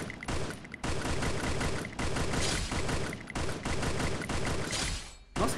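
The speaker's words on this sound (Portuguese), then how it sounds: "Nossa, que tiro é esse, rapaz?" Rapid gunfire in the game Free Fire bursts repeatedly, loud and sustained, with brief pauses between volleys.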